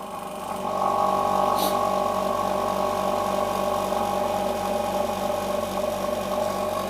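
A vacuum sealer machine for packing food bags starts up and runs with a steady, loud mechanical hum and buzz, close by and unbroken to the end.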